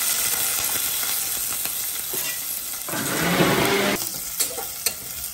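Onions frying in a pot of eggplant biryani base give a loud, dense, continuous sizzle that swells midway as fresh onions hit the hot oil, with a few sharp spits near the end; no voices.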